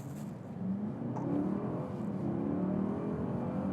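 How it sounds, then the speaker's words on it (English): A Mercedes GLS 580 with a V8 hybrid powertrain accelerates on an open road, its engine note climbing in a steady, rising drone heard from inside the cabin, fairly quiet and without talk. "Let's see what this V8 580 engine is like with a clean brake."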